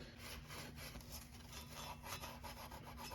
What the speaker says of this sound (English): We wanna take and clean this up. As you can see, there's a little bit of rust buildup underneath it. I'm gonna take a piece of emery cloth or something.